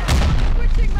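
A grenade goes off in Modern Warfare 2 with a single loud, close blast followed by a short rumbling tail.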